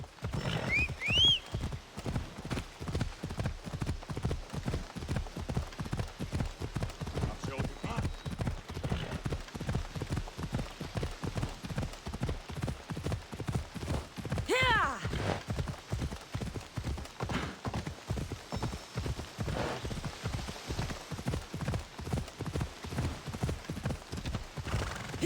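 A horse gallops in Assassin's Creed Odyssey, with a long, rapid, steady run of clip-clopping hooves close by and a couple of neighs. A voice talks over part of it.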